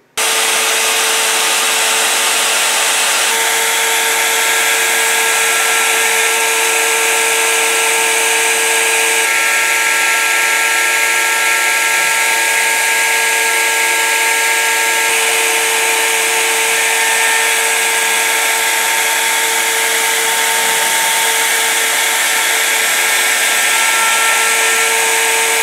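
A homemade ACME Shake-o-Matic machine runs with a steady, loud mechanical whir and hum, broadband and continuous throughout with no talking.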